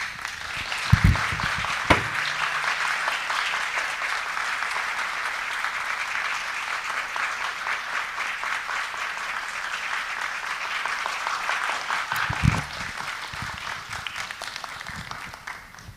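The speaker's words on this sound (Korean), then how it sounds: "우리 고상섭 목사님 뜨거운 박수로 모시겠습니다" A seminar audience gives warm applause welcoming pastor Go Sang-seop to the stage, a steady, even wash of many hands clapping that holds for the full length, with a couple of brief nearby thumps near the start and later.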